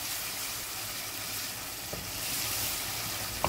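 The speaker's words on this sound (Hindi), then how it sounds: "पाँच मिनट हो गए हैं मुझे कीमे को भूनते हुए लहसुन अदरक और प्याज में" Double-ground minced meat frying with garlic, ginger and onion for keema palak, a steady, close, even sizzle that holds throughout with a couple of faint clicks near the end.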